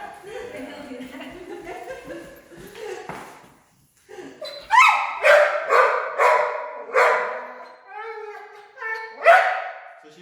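Mowgli the dog barks in a quick run of sharp, loud close-range barks with a few yips after someone talks during a private training lesson on molded sits.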